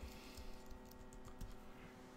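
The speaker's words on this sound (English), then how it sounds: "and I'm going to type my title." Quiet, quick key clicks on a computer keyboard as a short title is typed, a soft irregular patter with no talking.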